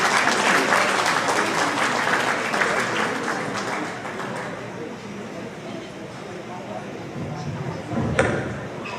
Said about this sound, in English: please give a round of applause for Deki